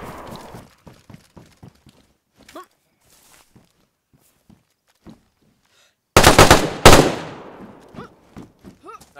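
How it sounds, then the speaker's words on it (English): Gunfire in the video game DayZ: scattered quiet footsteps and small noises, then two loud, dense bursts of rapid shots close by with a trailing echo, followed by faint clicks. "He's shooting at you."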